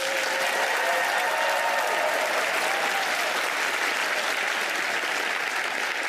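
A studio audience at Penn & Teller: Fool Us bursts into dense, loud applause that holds steady for several seconds, a thick wash of clapping from a large crowd.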